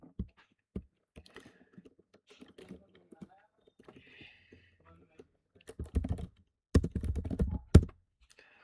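Someone types on a computer keyboard while filling in notes in a sales process form: sparse, faint key taps at first, then denser and louder clattering bursts toward the end.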